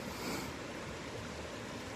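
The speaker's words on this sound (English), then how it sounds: "Something about cascading water is relaxing." Continuous broadband rush of cascading water at a waterfall among overhanging rocks in a wooded den, steady and fairly close with no voices.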